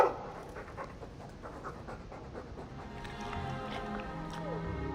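A dog pants in quick, rhythmic breaths close by in Dragon Age II, steady and moderately loud over a low background.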